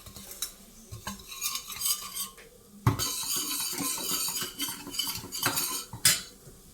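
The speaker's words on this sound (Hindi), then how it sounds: "अभी मसालों को खूब अच्छे से करेंगे फ्राई।" Garam masala and other spices fry in a pan for egg curry, a utensil stirring and scraping against the metal with clinks and bursts of sizzle, close and uneven.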